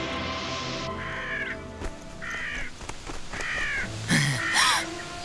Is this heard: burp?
no